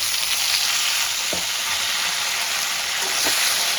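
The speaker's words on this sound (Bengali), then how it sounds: "ভালো করে ভেজে নেব।" Long-cut ridge gourd and potatoes frying together in a pan, with a loud, continuous hiss of hot oil and a couple of soft clinks from a spatula, heard close up and alone.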